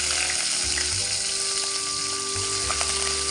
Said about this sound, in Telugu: తర్వాత పచ్చిమిర్చి వేసుకుందాము.